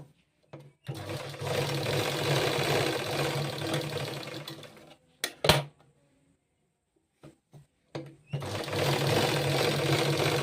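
An electric sewing machine stitching a drop neckline runs in a loud, close, steady whir for several seconds, stops with a few clicks and short bursts, then starts stitching again.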